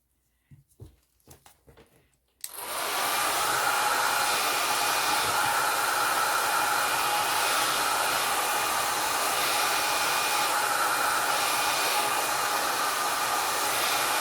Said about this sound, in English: I'm moving the blow dryer in different directions because I want some of this gradation